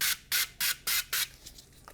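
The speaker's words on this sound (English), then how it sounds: "And then I have my lubrication spray." Five short hissing spray bursts in quick succession from an aerosol lubricant can during urinary catheterization, close by, followed by a faint trailing puff.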